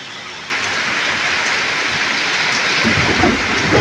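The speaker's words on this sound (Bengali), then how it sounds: "তাহলে বুঝতে পারছেন জোরে জল হচ্ছে" Heavy rain pours steadily and loudly in a home courtyard during a storm, with a dense continuous roar that swells in the final seconds; no distinct thunderclap stands out.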